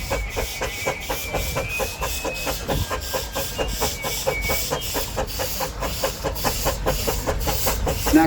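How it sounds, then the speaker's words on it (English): A steam engine labours under load against a braking engine at a steam and country show, its exhaust chuffing in a fast, steady, close rhythm with hiss and mechanical clatter and no talk. "Now just listen to that engine working."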